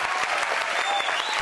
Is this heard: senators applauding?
yes